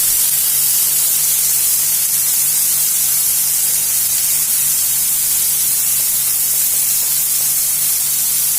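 Carrots frying in a pan, giving a constant dense hiss of spitting oil that stays loud and unchanging, with a faint low hum beneath and nobody talking.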